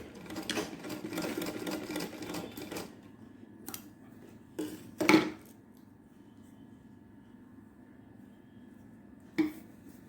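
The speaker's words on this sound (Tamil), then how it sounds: "அதே மாதிரி இன்னொரு பீஸையும் ஸ்டிச் பண்ணிக்கிறோம்." A sewing machine stitches fabric pieces for a blouse latkan in short bursts of rapid mechanical clatter, followed by quieter handling thumps and clicks between stops.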